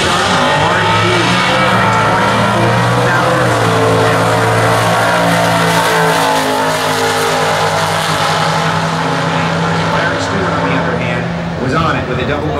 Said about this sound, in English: the 73 Formula Firebird, the 455-inch engine, dual snorkel hood, and Bob Hockren.